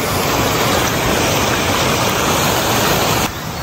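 Water rushes steadily at a spring intake below a small dam near a community-built tank in rural Lamjung, a loud continuous close splashing roar.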